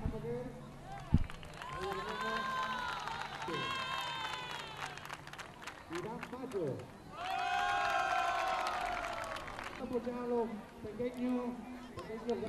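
A crowd cheers and applauds during a youth football team presentation, with swelling ovations, children's shouts and voices mixed in, loud and reverberant, rising sharply again midway.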